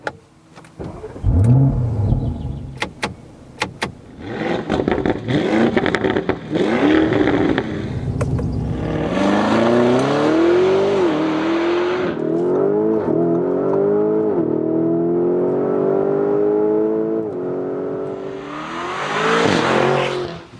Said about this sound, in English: A German Autobahn special with the Lamborghini Urus, one of the most expensive and most dramatic performance SUVs.